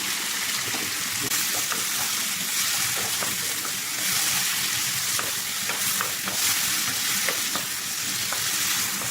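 Shrimp sizzle and fry in a pan with tomato and green chili while being stirred, a steady loud hiss broken by repeated scrapes of the utensil against the pan, with no talking.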